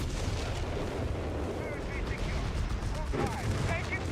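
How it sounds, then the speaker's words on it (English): An artillery barrage from a Bishop in the video game Foxhole rumbles as a dense, continuous roar of heavy booms, with faint whistling tones drifting above it near the end. "that Bishop is just going to keep barraging, almost wiping those coastals there"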